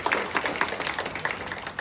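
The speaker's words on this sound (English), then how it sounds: "Let's give them a big hand of applause." A small group at a residents association quarterly meeting claps in a steady patter of overlapping hand claps, moderately loud and close, with no voices.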